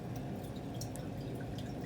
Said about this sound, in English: I'm gonna actually add more water